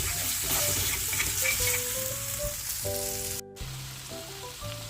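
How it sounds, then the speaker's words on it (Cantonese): Marinated chicken strips stir-fry in a hot wok with a continuous, close sizzle, faint tonal sounds in the background, and a brief cut-out partway through before the frying resumes. "首先就炒熟啲雞柳先"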